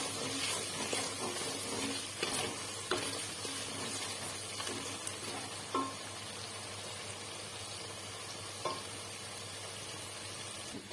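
Spices for a chicken curry sauté in a pan with a steady, close sizzling hiss that runs throughout, broken by a few soft scrapes and taps as they are stirred.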